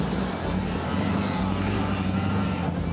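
The rear engine of a home-built mud-racing vehicle, stuck in a muddy pit, gives a steady, strained drone that holds a constant, heavy tone. A faint voice can be heard under it.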